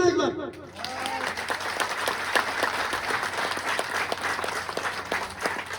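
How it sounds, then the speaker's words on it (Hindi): A crowd at a motivational talk claps together in a sustained, fairly loud burst of applause that starts just after a speaking voice and carries on evenly for several seconds. "ताली बजाना एक बार।"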